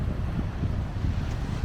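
Wind buffeting an unshielded microphone outdoors near the coast at Oualidia, a continuous low rumbling roar that stays steady and loud throughout with no one speaking.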